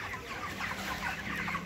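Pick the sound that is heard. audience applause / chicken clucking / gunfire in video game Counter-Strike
chicken clucking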